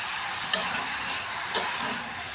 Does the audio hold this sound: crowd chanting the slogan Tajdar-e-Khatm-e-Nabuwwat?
no